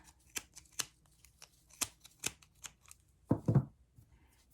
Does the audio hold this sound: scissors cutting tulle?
yes